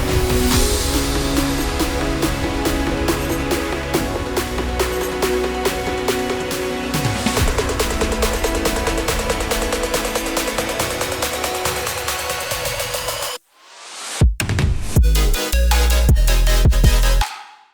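A melodic future bass build-up produced in FL Studio, layering a riser and a short sweep over dense, accelerating rhythmic hits that fill the full spectrum, then cutting to a brief gap before loud low bass hits return.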